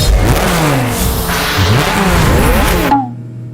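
A Lamborghini engine revs loud and close, rising and falling through a few pitch sweeps before cutting off abruptly near the end, with no voices over it.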